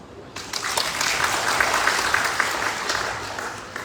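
At the ceremony opening the Comoros' accession to the WTO at the Palais du peuple, the audience bursts into warm applause, a dense crowd clapping that starts abruptly, holds steady and fades slightly near the end.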